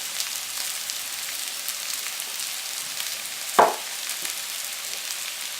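Vegetables sautéing in a pan for pasta give a soft, continuous sizzle throughout, broken once midway by a single sharp clack of a utensil.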